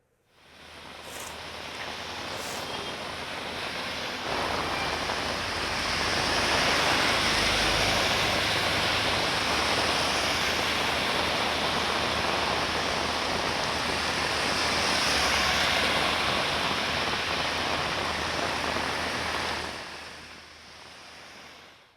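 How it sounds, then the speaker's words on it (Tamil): Heavy rain lashes down in Chennai amid strong wind and a thunderstorm, a dense, steady roaring wash that holds close and loud for the whole stretch, swelling slightly in the middle with no voices over it. "இடி மின்னல் மற்றும் பலத்த காற்றுடன் கனமழை வெளுத்து வாங்கியது."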